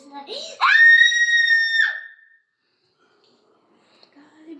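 A young girl lets out one loud, sustained scream at bedtime indoors, preceded by brief vocal sounds and followed by near silence.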